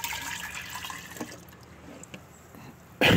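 Water poured off from a container during outboard motor flushing with river water, a soft, quiet stream of splashing and dripping that ends in a sudden loud burst of rushing liquid near the close.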